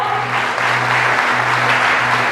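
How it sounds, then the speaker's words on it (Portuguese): A church congregation at a Pentecostal worship service claps hard, giving a dense, even roar of applause that holds for a couple of seconds with a low musical hum beneath. "dê um forte aplauso ao Senhor"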